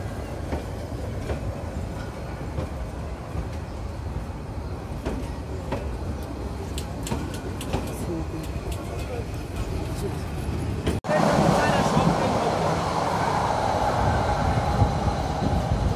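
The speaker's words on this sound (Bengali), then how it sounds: "চলে যাচ্ছে ট্রেন।" A train passing on a railway line near the India border at Kasba, a steady rolling rumble with clickety-clack wheel beats that surges louder midway, heard at night with a voice talking over it.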